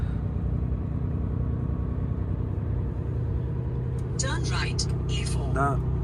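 Road traffic in Germany makes a steady low rumble of passing cars, with a person talking over it near the end.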